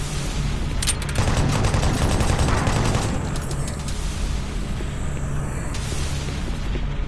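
Sustained gunfire from the video game Doom 3, a dense, loud barrage of rapid shots and booming blasts that runs continuously through the whole stretch with no pauses.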